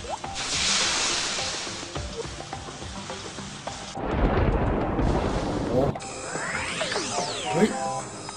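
Rumbling thunder and heavy rain in the game Mimpi, with a sharp lightning-strike crash near the middle and swooping electronic tones near the end.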